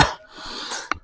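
A single sharp cough bursts out near the end, close and fairly loud, after a stretch of soft breathy background noise on a trek through the Kerinci highlands.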